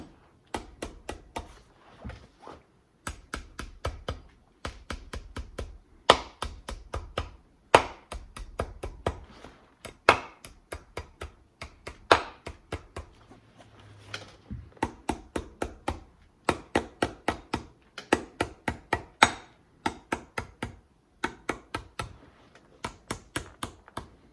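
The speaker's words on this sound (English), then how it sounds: "I'm gonna grab my hammer and I'm gonna do two things. One, bend these nails roughly 45 degrees" Hammering and bending nails while hand lasting a cordovan shoe upper: many sharp metallic blows landing in quick rhythmic bursts with short pauses between, loud and close, continuing for a long stretch.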